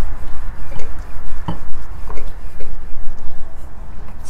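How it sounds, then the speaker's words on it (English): A rolling pin presses and rolls a small floured ball of potato-stuffed naan dough on a board, giving soft repeated rubbing and thudding strokes with one sharper knock, close and alone. "going to make a small ball and going to flatten it with the roller pin"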